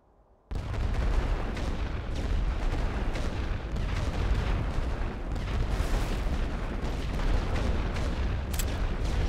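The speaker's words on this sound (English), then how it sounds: "Suppression fire ordered." Suppression gunfire and artillery in a Great War western front video game at Lille: after a brief quiet start, a dense, loud, continuous barrage of rifle fire and booming shells rolls on without pause.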